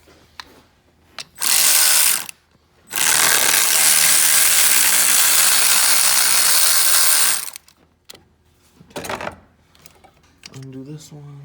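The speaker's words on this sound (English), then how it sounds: "We're gonna go ahead and pull this 13mm bolt." A ratchet works a 13mm bolt on the alternator of a 2014 Chevy Malibu 2.4L hybrid: a short burst, then a longer run of rapid clicking, with scattered knocks and handling noise after.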